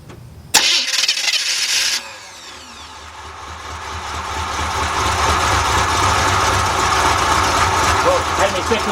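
A 1981 Chevy G10 van with a 5.7-liter 350 V8 and a newly shimmed replacement starter cranks in a loud whirring burst, then catches and settles into a rough, rumbling idle close by.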